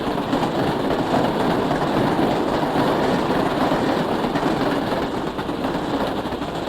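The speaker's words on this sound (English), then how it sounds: "Wow, look at that American Flyer train go." A steady rumbling, rattling run of an American Flyer electric toy train, continuous and fairly loud with no pauses.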